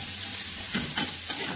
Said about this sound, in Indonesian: Kita aduk sampai layu.